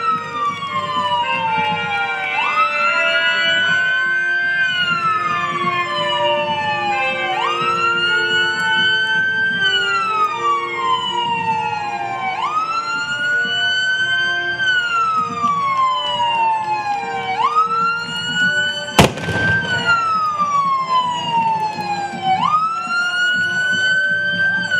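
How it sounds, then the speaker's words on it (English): Loud police car sirens wail continuously nearby at a street parade, rising and falling in repeated sweeping cycles, with a brief sharp thump partway through. "let the sirens and horns come by first"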